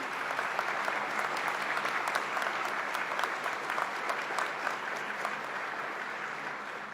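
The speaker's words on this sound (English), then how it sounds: "please join me in giving them applause for their contribution" Steady audience applause at a government funding announcement in Niagara Falls, with even, continuous clapping from a crowd heard at moderate distance throughout and no talk over it.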